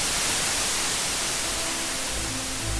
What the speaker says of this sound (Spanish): Un ruido blanco, una desconexión.